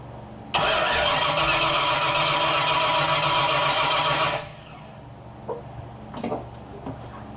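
Ford Futura with a 347 stroker engine being turned over: a loud, steady cranking drone for about four seconds that stops abruptly, followed by faint clicks and a brief voice.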